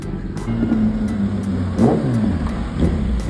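Kawasaki Ninja ZX10R superbike engine running steadily with a low rumbling drone and a brief rev swell midway, loud and close throughout.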